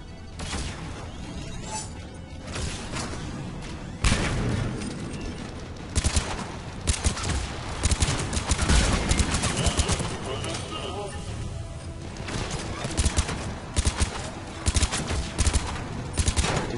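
Weapon fire in Mass Effect 3 combat, repeated sharp shots and bursts over a dense, loud game soundscape, with someone talking intermittently.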